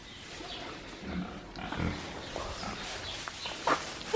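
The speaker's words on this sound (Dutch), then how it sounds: "En hier zijn de varkens en de biggetjes." Pigs and piglets grunting and snuffling at close range, a low, continuous rumble of animal noises with a few louder squeals near the end.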